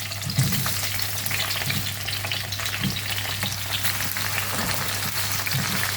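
Tomatoes and onions frying in oil in a pan, a loud, dense, continuous sizzle close up with occasional soft stirring knocks.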